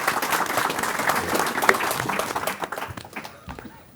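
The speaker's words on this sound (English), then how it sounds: "Can I have a round of applause for George O'Connor, please?" An audience at a live investor show podcast recording claps and applauds loudly for a few seconds, the clapping thinning out and fading toward the end.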